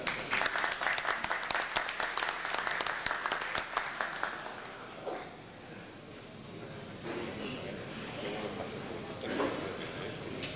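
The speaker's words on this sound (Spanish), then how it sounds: "Un aplauso, por favor, para él." An audience at an evening event applauds a panel member with a burst of dense clapping that fades after about four seconds, leaving a quieter room with scattered sounds.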